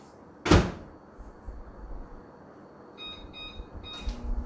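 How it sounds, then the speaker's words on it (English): A microwave door thumps shut sharply, and after a pause a short series of electronic beeps sounds as it is set, followed by another beep and a low hum starting. "I'm actually going to melt these in the microwave."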